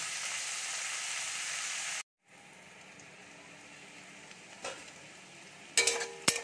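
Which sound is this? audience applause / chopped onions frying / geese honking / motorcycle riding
chopped onions frying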